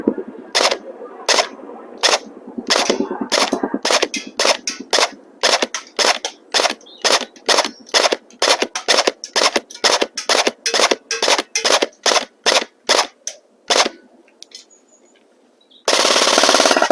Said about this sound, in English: Let's see how we do with the shooting.